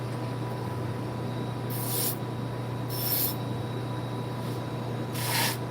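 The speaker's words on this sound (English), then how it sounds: "Light strop." A knife edge being lightly stropped to clear the burr after a 600-grit stone, three or four soft, brief rubbing strokes spaced about a second apart against a steady low hum.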